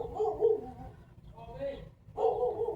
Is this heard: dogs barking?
yes